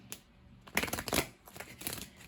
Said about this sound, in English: So from the Waite Coleman Smith deck, I'm going to shuffle these real quick.